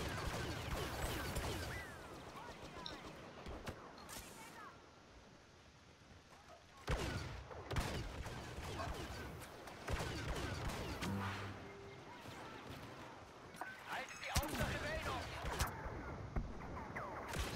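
Rapid blaster fire in the Star Wars Battlefront game on the Jawa Refugium map, volleys of shots bursting in quick succession amid explosions and battle noise, with occasional talk over the action.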